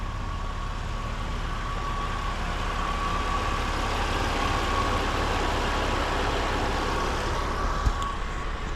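A car idles with its exhaust running after a tune-up, giving a steady, even low rumble close by that is neither raspy nor droning and holds constant throughout.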